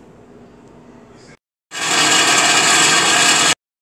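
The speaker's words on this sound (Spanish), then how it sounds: "Moler todos los ingredientes" A blender grinds boiled serrano chiles, three garlic cloves and a piece of onion for enchiladas verdes sauce: a low hum, a brief silence, then a loud, steady roaring whir for about two seconds that cuts off abruptly.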